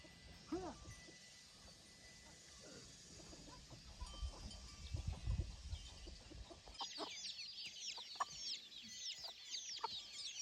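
Chickens cluck on a Thai farm, with repeated short clucks and a busy flock chorus rising in the second half, over background noise and a voice.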